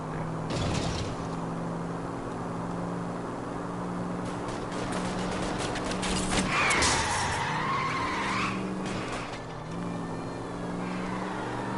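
A car in the video game L.A. Noire driving with engine hum, then a prolonged tire skid and creaking mechanisms midway, loud and close, with game music beneath.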